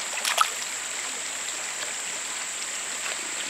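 Water in a creek flows in a steady, soft rush with a brief splashy burst near the start, otherwise even and unbroken.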